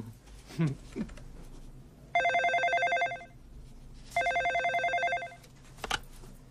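A landline telephone rings loud and near in two long electronic trilling bursts separated by a pause, with brief voices and small sounds before and after.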